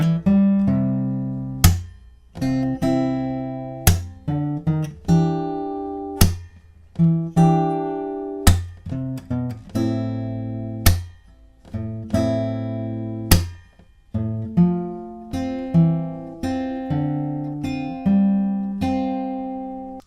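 Electric guitar playing the verse riff of a song, with a repeating pattern of struck chords and single notes in a steady rhythm, clear and close, no voices.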